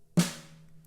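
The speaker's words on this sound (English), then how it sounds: "a ghost note sounds like this" One quiet ghost note on a snare drum in a beginner groove lesson, a soft close tap that is much lighter than a full hit, with a short ring fading out, heard alone.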